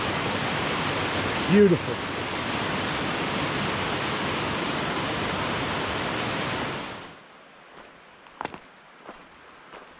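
Water of the Little River rushes steadily by a bridge in the Great Smoky Mountains, a loud, dense, continuous roar that cuts off abruptly, leaving quiet with a few faint knocks and a brief voice.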